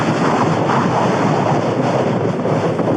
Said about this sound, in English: That wind, man, shit. Awful.